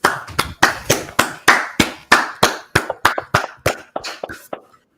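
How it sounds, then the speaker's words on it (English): A group claps in steady unison at a Washington, D.C. street gathering of the Israelite School of Universal Practical Knowledge, about sixteen sharp, evenly spaced claps, loud and close, fading out at the end. "Clap it up."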